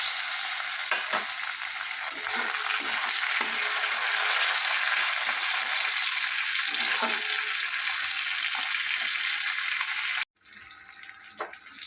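Chopped tomato hits hot oil with fried onion in a pan, a loud steady sizzle with scraping stirs that cuts off sharply near the end, leaving a quieter bubbling fry.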